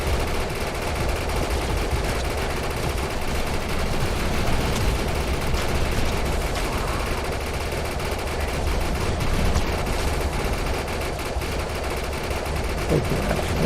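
Rapid, continuous automatic gunfire fills a police-pursuit racing game, bursts of shots layered densely over engine and chase noise for the whole stretch, loud and steady with no pauses.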